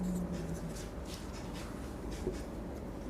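Someone writes a math expression by hand, producing a steady, continuous scratching and rubbing of the writing tool on the surface at close range.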